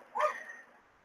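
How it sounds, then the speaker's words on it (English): A single short bark from a dog in the background, fairly faint and slightly distant, fading quickly in a quiet room. "ignore the dog in the background"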